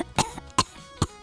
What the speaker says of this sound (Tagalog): Uy, inuubo yung cashier?